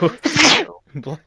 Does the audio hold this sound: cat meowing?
no